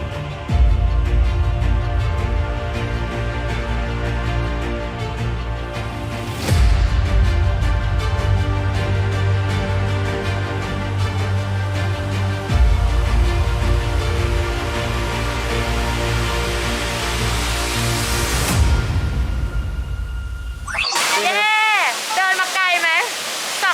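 Haew Suwat waterfall in Khao Yai, Thailand, pours down as a loud, steady broadband roar that fills the whole stretch without pause, with a few brief sweeping tones layered near the end.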